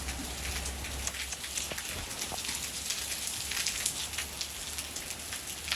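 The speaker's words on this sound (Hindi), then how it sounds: "ओ बाप रे क्या बारिश आ रही है बाहर" Heavy rain pours down outside in a village, a steady dense hiss of drops on surfaces filling the whole stretch, with a few birds faintly cooing and chirping in the background.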